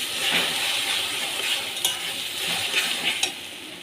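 Egg bhujia, spiced scrambled egg, sizzles steadily in a pan while it is stirred, with occasional sharp clinks of a utensil against the metal.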